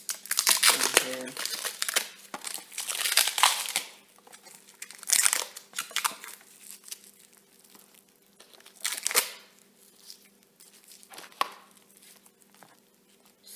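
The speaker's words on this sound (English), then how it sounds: "I'm just gonna go and remove the plastic from here." Plastic wrapping pulled and crinkled off an eyeshadow palette, close crackling bursts that come and go over the span, with a person talking at the same time.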